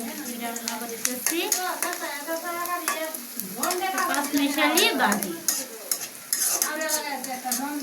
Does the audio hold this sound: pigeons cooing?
no